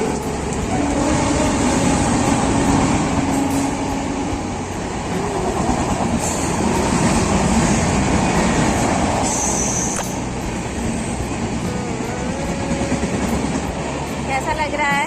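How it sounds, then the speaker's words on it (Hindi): A passenger train pulls into a railway station with a loud, continuous rumble, rail clatter and squeal, while voices can be heard nearby. "तो ये आ चुकी है हम लोग की ट्रेन।"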